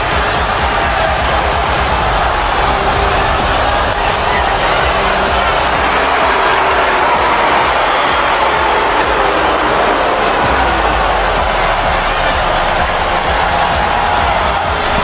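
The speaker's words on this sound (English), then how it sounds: "the crowd is booing her" Loud, steady roar of an arena crowd in the WWE 2K25 wrestling video game during a female wrestler's entrance, a dense wash of noise that fills the whole stretch without letup.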